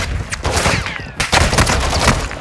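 Video game gunfire during a Call of Duty Warzone match on Ashika Island, loud rapid automatic bursts and overlapping shots in a close, dense fusillade with a short gap midway.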